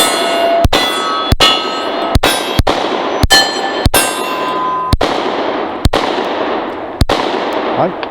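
About ten sharp, close gunshots from a 9 mm handgun firing range ammo crack out at irregular intervals, each a loud report with a short ringing tail.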